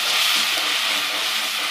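A paste of onion and green chili fries in a pan, giving a loud, steady, close sizzling hiss that holds without break.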